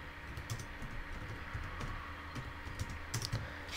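Keys clatter on a computer keyboard in a quiet office, a short burst of quick, light, uneven keystrokes.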